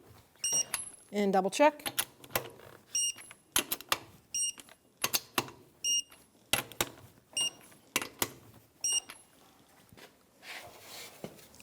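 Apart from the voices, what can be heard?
torque wrench tightening wheel nuts on a Toyota RAV4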